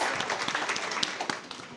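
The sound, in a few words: applause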